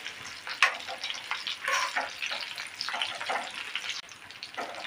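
Besan-coated green chilies frying in a pan, a continuous crackling sizzle with bursts of spattering as the pieces are turned, close and steady throughout.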